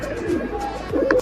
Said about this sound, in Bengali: 5 নম্বর কবুতর আইসা, অনেক হাইট নিয়া ভিডিও করতে করতে অনেক নিচে নামছে